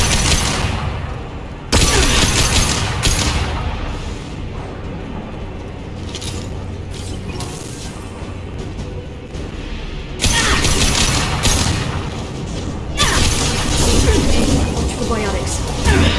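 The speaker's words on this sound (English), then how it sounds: "Watch out, flashbangs!" Flashbang grenades go off in Mass Effect 2, a sharp broadband burst and then a second loud blast later, over dense continuous combat noise and rumble.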